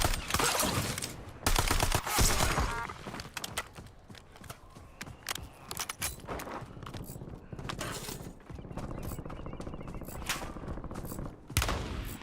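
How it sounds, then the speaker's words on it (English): Heavy gunfire in Call of Duty Warzone cracks in repeated loud bursts and single shots across a busy battlefield, with a voice speaking at times between the shots. "Taking fire."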